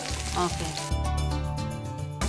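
Brinjal pieces sizzling and frying in a hot pan for vangi bath, a steady crackling hiss that runs close and continuous beneath some background voice or tonal sound.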